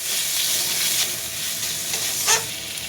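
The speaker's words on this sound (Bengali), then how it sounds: "এবার দেবো টমেটো কুচি, দিয়ে খুব ভালোভাবে ভেজে নেব" Chopped tomato with curry leaves frying in a pan for fish curry, a steady hiss of sizzling oil with a couple of brief stirring scrapes, close and moderately loud.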